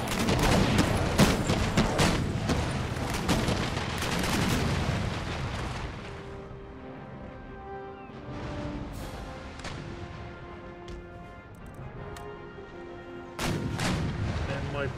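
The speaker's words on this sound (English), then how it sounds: "let's see this chain shot broadside" Chain shot broadside cannon fire from sailing warships in Empire Total War, with a dense rolling barrage of booming shots at first, then scattered distant reports under the game's ambient music.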